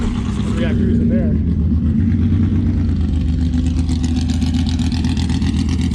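An AMC 258 engine idles with a deep rumble, then revs a couple of times, loud and close, with people talking nearby at an AMC drag racing event.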